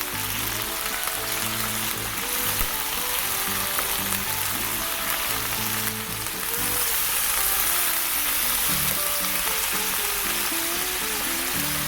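Beef heart and beef tongue fry in a pan for adobo, giving a steady, dense sizzle that runs unbroken from start to finish, close and fairly loud, with no talking.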